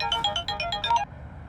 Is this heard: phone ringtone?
yes